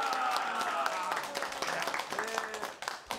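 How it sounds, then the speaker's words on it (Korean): Audience applause at a village gathering in Taeheung 2-ri, Namwon-eup, a dense, continuous patter of many hands clapping over music for about three seconds. "박수"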